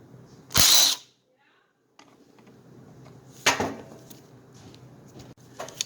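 Two screws being backed out of a cover to reach a vent tube, heard as a short loud whirring burst of a driver, later a second burst and ratcheting clicks over quiet mechanical handling, close by.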